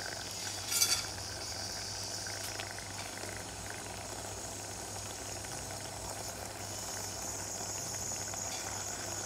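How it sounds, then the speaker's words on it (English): Mutton simmers in a gravy, giving a steady low bubbling and faint sizzling hiss that runs evenly throughout, with one brief clink near the start. "Now let me add in the mutton. Let it cook in this gravy for 5 minutes."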